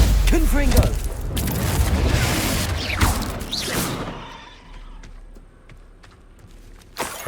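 Hogwarts Legacy combat: booming spell blasts and impacts such as the Confringo fire spell, loud bursts and crashes in the first four seconds, then quieter rumbling with a couple of sharp hits near the end; voices accompany the combat.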